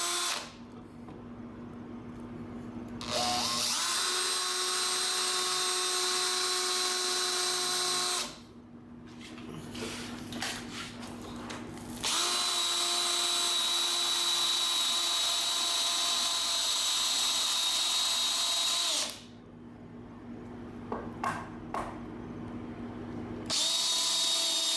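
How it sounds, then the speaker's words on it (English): Power drill with a concrete bit boring through a concrete wall behind a removed 2x4, three long loud whining bursts separated by brief pauses with small tool handling noises. "You're just going to drill these out all the way with the concrete bit."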